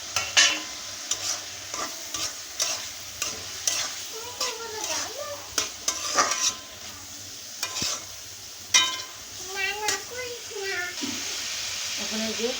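Tomatoes frying in a pan while being stirred, a steady sizzle broken by repeated scraping strokes of the spoon, close and fairly loud, with a voice chirping faintly now and then.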